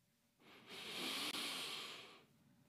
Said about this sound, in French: on fait ce qu'on appelle une respiration complète dans le yoga